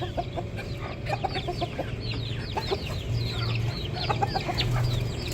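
Chickens cluck and chatter close by in a home flock with a white rooster, a busy overlapping stream of short calls over a low steady background hum.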